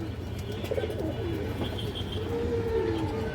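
Old-line Bagha female pigeon, a recent mother, cooing in low soft repeated calls close by, with other birds chirping faintly in the background.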